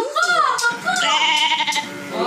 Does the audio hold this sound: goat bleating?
yes